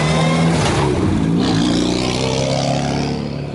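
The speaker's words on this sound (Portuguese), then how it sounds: "Olha esse carro andando" A car drives hard on a race track at a track day, its engine loud and close as it accelerates with rising revs that fade slightly toward the end.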